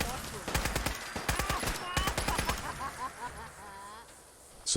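Rapid automatic gunfire in the video game Fallout 4, loud bursts of repeated shots, some echoing, followed by a quieter tail with a brief sharp sound at the end.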